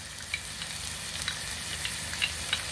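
Minced garlic sizzles and crackles steadily in a pan with softened vegetables, with small pops and spatters over a continuous frying hiss.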